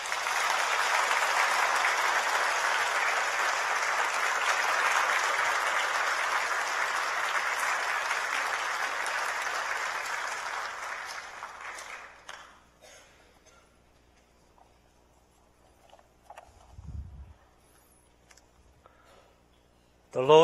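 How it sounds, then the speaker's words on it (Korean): A church congregation applauds to welcome a pastor, loud dense clapping held for about twelve seconds before fading out, followed by near silence with a few faint movements and a brief voice at the very end. "한번 목사님을 박수로 환영했으면 좋겠습니다"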